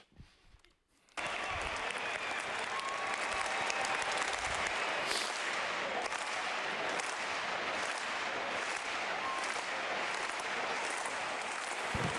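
An audience at an innovation talk in Stockholm breaks into loud, dense applause that starts abruptly after a brief quiet moment and holds steady and full for about eleven seconds.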